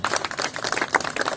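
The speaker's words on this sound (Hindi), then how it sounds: "जोरदार तालियां" An audience claps at a free eye-treatment camp run by Sant Nirankari Mission, a dense, close patter of many hands filling the short moment without pause.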